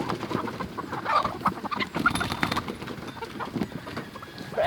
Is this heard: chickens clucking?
yes